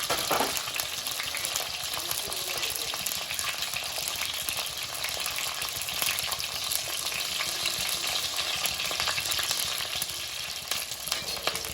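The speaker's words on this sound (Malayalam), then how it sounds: "എടുത്തു വെച്ചിരിക്കുന്ന ഇൻഗ്രീഡിയൻസ് എല്ലാം എണ്ണയിലേക്ക് ഒന്ന് ഇട്ട് കൊടുക്കാം" Continuous loud sizzling of fish curry ingredients in hot oil, a constant crackly hiss that stays even throughout with no voices.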